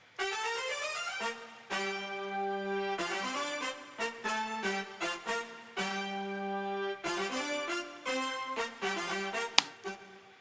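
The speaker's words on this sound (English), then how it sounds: "basically meant to sound kind of like a 80s synth pop brass thing" Bright, punchy synth brass stabs playing chords in a retro pop style, with short rhythmic hits and sustained swells, loud and alone.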